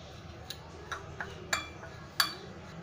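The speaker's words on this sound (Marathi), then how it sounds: "मिक्स करून घेऊया." A spoon mixing cut carrots with salt and pickle masala in a bowl: a handful of faint, sparse clinks and taps of metal on dish at uneven intervals over quiet background noise.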